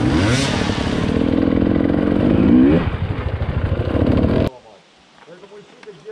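A motorcycle revs hard just before jumping onto slippery logs on a Silichi training ride. The engine roars loud and close for about four seconds, then cuts abruptly to faint background sound.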